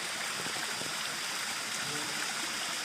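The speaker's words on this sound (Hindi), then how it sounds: "यहाँ साफ पानी का एक झरना बह रहा है" A clear mountain spring stream flows steadily, a constant broadband rush of water with no breaks, close by and moderately loud.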